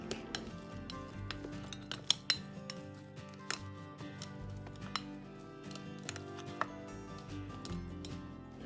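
Hot cooked rice is mashed in a bowl for curd rice, with a spoon scraping and clinking against the bowl in irregular sharp taps amid soft squishing, close and fairly quiet with no talk.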